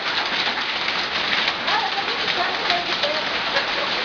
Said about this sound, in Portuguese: Chovendo granizo.